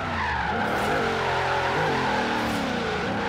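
Sustained tire squeal from a heavy supercharged 2012 Cadillac Escalade ESV drifting in Forza Horizon 3, a loud continuous screech with wavering pitch layered over steady engine drone, no voices.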